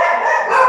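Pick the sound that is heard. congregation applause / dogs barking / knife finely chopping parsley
dogs barking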